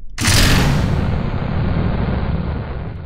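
A large explosion in the Kerbal Space Program video game: a sudden loud boom that rolls into a long, dense rumbling roar lasting several seconds, with no talk over it.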